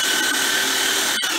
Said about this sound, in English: just let the sander sand it